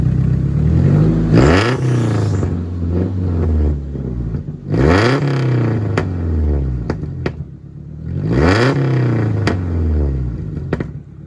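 A Nissan S14 with its factory muffler, revved hard three times in a row, each sharp rise in engine pitch falling back to idle between blips, loud and close with no talking.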